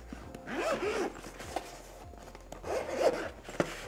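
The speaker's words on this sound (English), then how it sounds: "comes with a really nice carrying case. Got a little handle to it. Zips up." Zipper on a drone's padded carrying case being pulled closed in two quick runs, close and fairly soft, with small rubbing and handling noises between the strokes.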